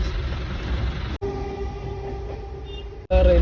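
A train rolls past a railway level crossing on the entry road to Alappuzha beach, giving a loud, close, continuous rumble of wagons with faint tonal squeals, then a sudden heavier rumble at the end.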